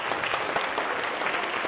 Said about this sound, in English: Let's give all participants a round of